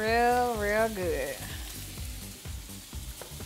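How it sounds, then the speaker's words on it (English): Cheese sizzles and fries in a hot pan, a steady crackling hiss with a brief tonal sweep of whistling at the start, fairly close and alone without talk. "Let that sit for a second, and it's still sizzling hot."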